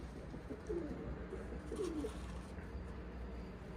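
Pigeons on a rooftop give soft, repeated cooing calls at a moderate distance. The coos are fairly faint against a steady outdoor background hiss, and no one speaks.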